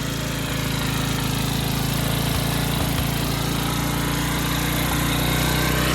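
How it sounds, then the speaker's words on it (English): An 11 HP Briggs & Stratton flathead engine runs in an LT1000 lawn tractor, a steady, loud, close mechanical drone with constant vibration and no pauses or speech. "Smallest engine in an LT1000 that I've ever had. Whatever, it works."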